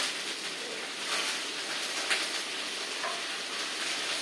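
Chopped carrots sizzle in hot oil in a pan for a rava tomato bath, a steady crackling fry close by with faint stirring scrapes and no voices.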